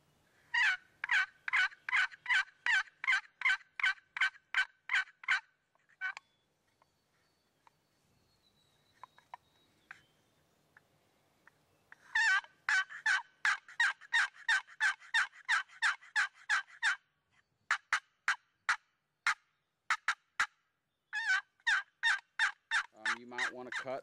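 Wooden turkey box call scraped in the woods to imitate a hen turkey, giving long runs of raspy rhythmic yelps and clucks, loud and close, separated by short pauses with a brief quiet handling sound.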